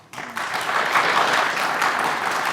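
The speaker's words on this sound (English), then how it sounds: "Hear all that clapping?" An audience at a junior quiz-show competition between school teams claps and cheers, the applause swelling quickly into a full, sustained roar from a packed room.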